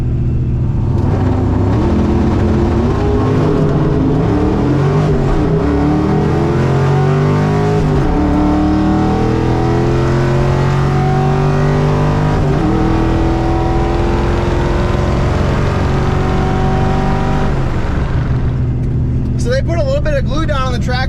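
A 1982 Ford Mustang GT makes a drag racing pass at the track with a two-step launch, its loud engine climbing in pitch through several gear changes and then fading.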